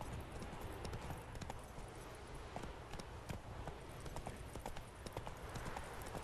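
Horse hooves pound at a gallop in The Witcher 3, a quick repeating clatter up close and steady throughout, with faint game ambience beneath.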